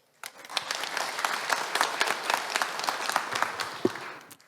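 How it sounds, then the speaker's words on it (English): An audience at a fan event for actor Sean Gunn claps and applauds steadily for several seconds, a dense, lively burst of hand claps filling the room. "let's make a round of applause for Sean for his belated birthday."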